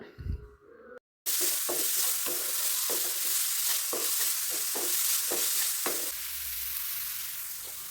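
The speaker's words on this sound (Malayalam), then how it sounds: "ഉള്ളി ആഡ് ചെയ്തിട്ട് നല്ലപോലെ ഇളക്കുക." Onion and soya chunks fry in a pan with a steady, close sizzle, broken by regular scraping strokes as they are stirred, after a short bump and pause at the start.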